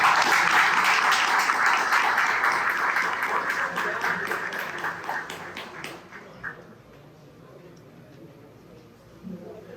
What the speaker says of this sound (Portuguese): Uma salva de palmas para vocês que tiraram um tempinho para vir aqui hoje